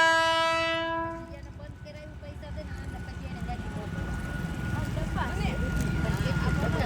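A train rolls past a level crossing with its horn sounding at the start, then a steady rising clatter of wheels and cars drawing closer and louder, with faint voices of people waiting.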